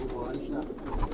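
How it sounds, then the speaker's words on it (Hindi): Soft pigeon cooing from a pigeon loft, low and throaty, heard briefly amid a voice talking nearby. "ये भाई हमारा बता रहा है कि बिल्कुल ज़िम्मेदारी के कबूतर हैं"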